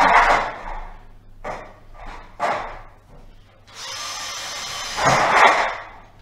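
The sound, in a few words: drill pre-drilling two holes in a metal drywall stud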